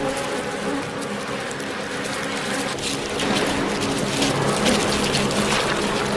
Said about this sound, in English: The bees begin raising their collective body temperature by vibrating their abdomens.